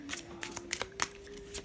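A tarot deck shuffled by hand at close range: quick papery riffles and card slaps in brisk uneven bursts, with a faint steady hum underneath and no talking.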